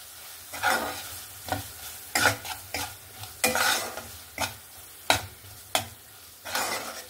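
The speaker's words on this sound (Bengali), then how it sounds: "দিয়ে ভালো করে মশলাটাকে কষিয়ে নেব" Spice paste is stirred and sautéed in a pan for a mustard-poppy drumstick dish, rhythmic spatula scrapes in repeated bursts over a low, steady sizzle, close and with no voices.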